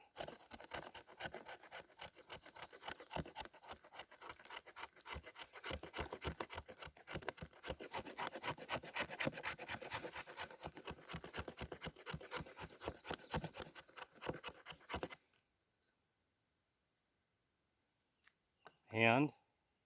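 A knife's 90-degree spine scrapes fat wood into shavings, a rapid, continuous rasping stroke after stroke for about fifteen seconds, close and fairly loud, then stopping into near silence with a brief handling noise at the end.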